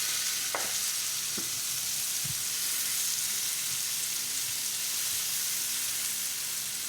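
Shallots fry in butter in a pan over low heat, giving a steady close sizzle and crackle throughout, with a few soft stirring knocks near the start.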